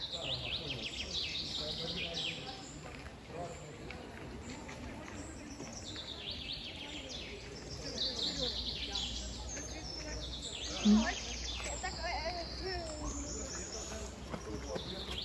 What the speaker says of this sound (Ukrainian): співають пташки